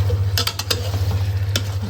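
Tinda round gourd and meat sautéing in a pot, a steady sizzle under a low hum, with a few sharp stirring scrapes near the start and another scrape later; no one speaks.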